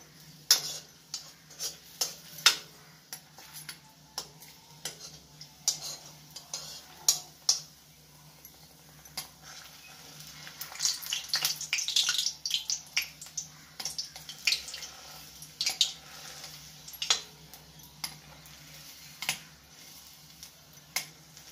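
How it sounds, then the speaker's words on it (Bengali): Katori, edible chaat bowls, frying in a shallow layer of oil, giving faint scattered pops and small crackles that come and go over a low steady hiss, busier in the middle stretch. "আর এইরকম করে কাটুরিটা ভেজে নেব"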